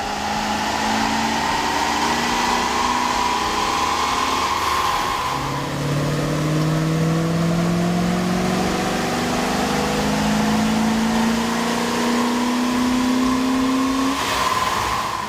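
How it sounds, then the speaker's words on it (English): Dodge Ram 1500 with 5.9-liter engine and K&N Generation II air intake running on a dyno, steady engine drone with two rising revs that climb in pitch and fall back, loud and continuous throughout. "we ran the vehicle on the dyno to test the sound comparison versus the stock intake"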